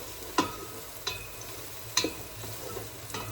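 Onions frying in a pot, a steady soft sizzle broken by a few sharp stirring scrapes at irregular intervals, close and moderately loud with no voices.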